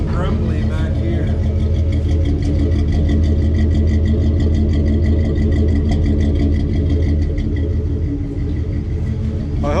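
A DeSoto car with a custom-built exhaust idles close by, giving a steady, deep, grumbling rumble that holds evenly throughout with a faint mechanical whir on top.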